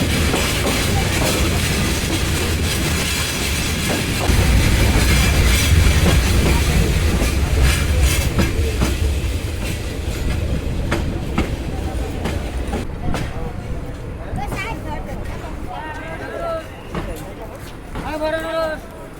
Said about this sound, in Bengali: ট্রেন প্রবেশ করছে শ্রীমঙ্গল রেলওয়ে স্টেশন